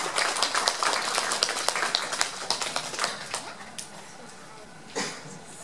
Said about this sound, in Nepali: अलि जोरदार ताली बजाउनुहोस्